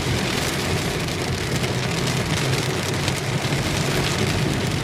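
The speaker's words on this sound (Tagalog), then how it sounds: "Lakas ng ulan." Heavy typhoon rain from Typhoon Crising pours down in a loud, dense, unbroken roar of drops pounding a surface, close and constant with no speech.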